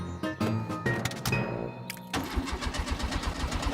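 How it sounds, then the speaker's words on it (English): A cartoon car engine cranks and sputters without catching, a rough stuttering churn of starter attempts that briefly surges and then settles into a ragged chugging rhythm, close and moderately loud. "The car won't start."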